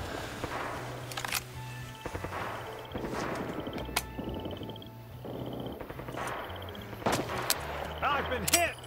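Gunfire from the Vietnam War shooter Rising Storm 2: Vietnam, with repeated sharp shots and bursts scattered through a busy battle mix, some close and loud, while low voices and game sounds run underneath.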